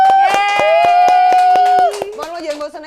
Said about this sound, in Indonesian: tepuk tangan lagi buat Maman.